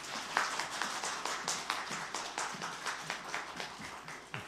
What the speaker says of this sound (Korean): 우리 나오실 때 크게 박수로 환영해 주시기 바랍니다.